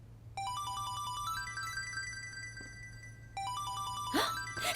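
A phone ringtone plays a bright, repeated electronic melody in a romantic drama scene. It is clear and steady, pauses briefly, then starts again, with a short rustle near the end.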